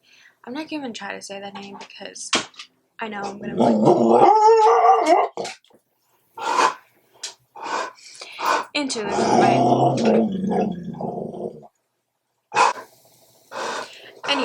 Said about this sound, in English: Excuse my dog. He's going crazy because he sees a dog outside.